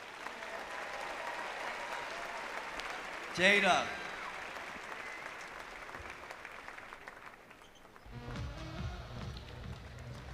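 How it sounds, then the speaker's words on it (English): Crowd applause fills a Kentucky Wildcats basketball arena during the Blue-White scrimmage, a steady broad roar with a brief louder burst, continuing beneath an announcer's voice over the public address. "So let's give her a round of applause."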